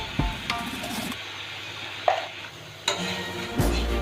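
Gentle frying sizzle in a pan, broken by several sharp clinks and scrapes of a utensil stirring against the metal.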